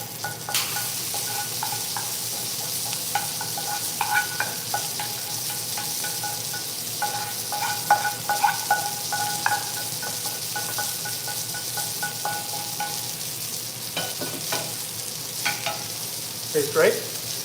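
Pasta and sausage frying in a pan, a soft continuous sizzle under repeated stirring with utensil scrapes and light clinks against the pan, close and fairly quiet.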